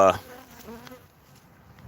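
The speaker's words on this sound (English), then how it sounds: "got one little mad bee" An angry bee buzzing around close by, a sharp loud burst at first and then a wavering drone that fades as it circles.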